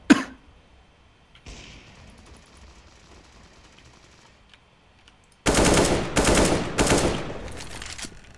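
Submachine gun fire in a video game, with long rapid automatic bursts starting partway through and lasting several seconds after a sharp single crack and a quieter stretch.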